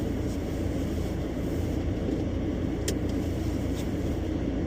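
An Audi A4 TDI with a 7-speed S tronic automatic gearbox on a test drive gives a steady low engine and road drone, heard from inside the cabin, with a couple of faint ticks.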